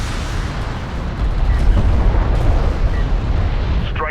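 Strike craft blowing up in the real-time strategy game Homeworld: Deserts of Kharak, a loud, sustained rumbling explosion with a dense low roar that holds for several seconds.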